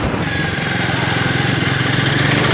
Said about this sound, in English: The exhaust note of this bike, I really love it.